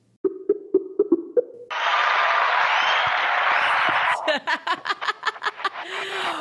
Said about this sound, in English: it's nice to get a cheer every time I pick up the phone